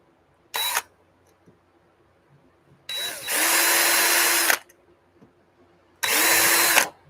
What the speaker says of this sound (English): I like to pre-drill all my holes so I don't have to worry about wood splitting.